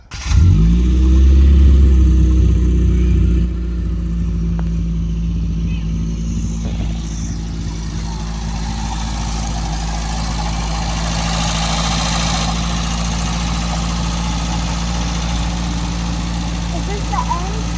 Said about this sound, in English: Start the car so you can hear how it sounds.